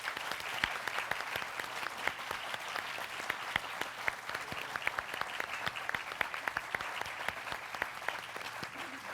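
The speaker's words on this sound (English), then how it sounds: "Could I have an applause for all 3 of the women" Audience applause for three women pilots of the Women Airforce Service Pilots at a leadership prize ceremony, a steady crowd of sharp claps sustained evenly from start to finish.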